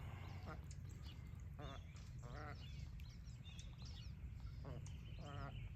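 Ducks wading in a shallow lake let out several loud honking quacks in short bursts over steady outdoor noise, with a voice talking at moments.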